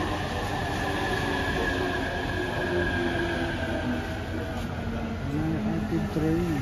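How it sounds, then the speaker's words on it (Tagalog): Train pulling into a station platform, a loud steady rumble of wheels and rail noise with tonal squeals rising near the end, close and continuous. "Dito na tayo ng train."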